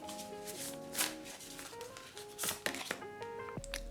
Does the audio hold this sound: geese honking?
no